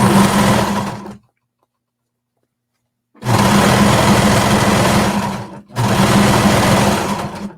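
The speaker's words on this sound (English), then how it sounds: "I'm just going to sew off so that I've got that space open" A sewing machine stitches a skirt seam on a jacket in loud, rapid whirring bursts, first a short run, then a two-second pause, then a longer run and a final burst, close to the listener.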